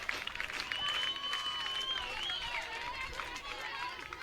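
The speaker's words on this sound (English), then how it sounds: "Gets this Eagleville crowd going." Crowd at an Eagleville high school baseball state championship cheering and applauding after a wild pitch, a broad clapping roar with whistles riding over it, moderately distant, with a commentator talking throughout.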